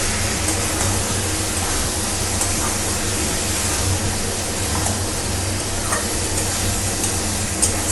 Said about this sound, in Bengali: এখন চর্বিটা এভাবে ভাজতে থাকবো